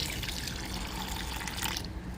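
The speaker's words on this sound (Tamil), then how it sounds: "இந்த உளுந்து ஊறின தண்ணியை விட்டு" Water from soaking urad dal pours into a mixer jar, a soft continuous splashing trickle that stops abruptly near the end, faint and close.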